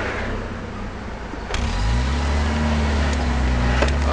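A 1995 Jeep Wrangler YJ pulling out onto the road, its engine droning low and loud, the pitch climbing steadily as it accelerates, with no talking over it.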